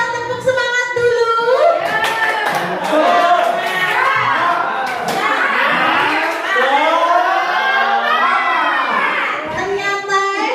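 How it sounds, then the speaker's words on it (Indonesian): A classroom of schoolchildren performs a 'tepuk semangat' cheer, chanting loudly together in high voices, with short sharp hand claps scattered through the chant. "Kita tepuk semangat dulu"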